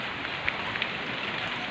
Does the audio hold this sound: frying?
no